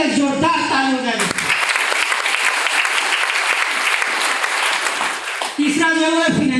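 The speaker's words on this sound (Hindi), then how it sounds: "हमारे सिस्टम के लिए जोरदार ताली हो जाएगी" A seminar audience at an academy breaks into loud, sustained applause for several seconds. Someone speaks just before the clapping starts and again as it dies away.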